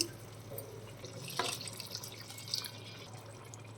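Tamarind water trickles and drips steadily into a pan, with a brief louder splash partway through, quiet and close.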